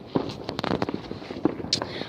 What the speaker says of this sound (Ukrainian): эти салюты просто чудесные, серьезно